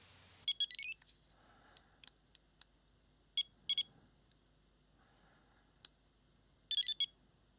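Bumper, a pinball game on a Nokia 3330 phone, plays short bursts of monophonic beeping tones, with quick rattling chirp clusters separated by single isolated bleeps and quiet gaps.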